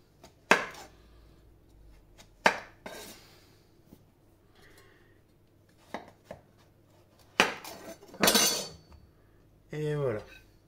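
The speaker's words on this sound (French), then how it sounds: "On va couper en deux" A knife cuts a whole courgette in half lengthwise on a board for stuffed courgette, producing several sharp, close chopping knocks spread irregularly, followed by a brief scraping rustle near the end.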